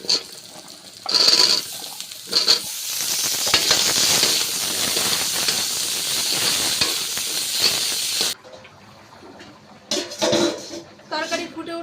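Vegetables tipped into hot oil with garlic paste in a wok set off a loud, dense sizzle lasting several seconds. The sizzle cuts off abruptly, leaving quieter clatter and bursts of speech.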